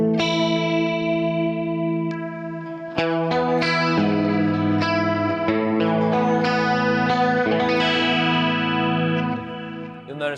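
Electric guitar run through a subtle chorus effect pedal on a worship leader's pedalboard, strummed chords ringing out with a gentle shimmering texture, loud and close, with no voices.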